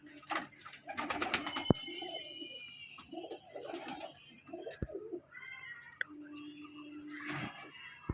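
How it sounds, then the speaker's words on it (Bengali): Pigeons in a loft, one a Naptha hen, cooing in soft repeated low rolling calls with a few sharp clicks and rustles, close and fairly quiet. "একটা নাপ্তা পায়রা দেখুন"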